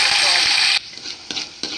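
Loud, steady sizzling hiss of tempering spices hitting hot oil for a cucumber-tomato curry cuts off abruptly, followed by a few light metallic clinks and scrapes.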